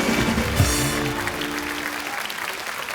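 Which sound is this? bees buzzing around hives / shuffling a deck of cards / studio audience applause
studio audience applause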